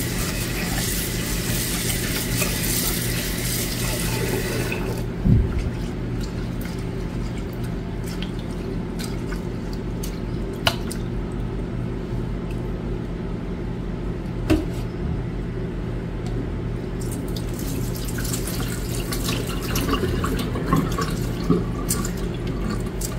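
Tap water runs steadily into a metal strainer while black rice is rinsed in a home kitchen, a continuous broadband wash with a few soft clicks and knocks of the strainer.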